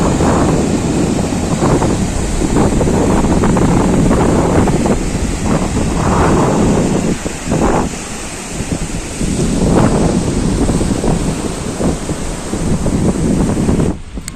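Ocean waves washing ashore on a Mumbai beach with strong wind buffeting the microphone, a loud continuous roar with rolling surges, no voices.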